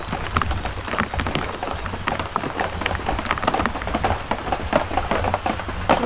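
Rain drumming on thin, soaked plywood roof sheathing left without roof paper on a self-built sleepout in New Zealand; a dense, steady, close patter with no voices.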